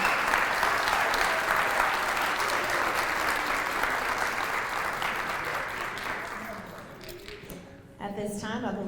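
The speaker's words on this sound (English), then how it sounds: "let's give Miss Knight's 2022-23 kindergarten classroom a big round of applause" A school audience gives a kindergarten class a long round of applause at their graduation ceremony, dense clapping and cheering that swells loudly, then thins and fades toward the end, with voices rising briefly at the close.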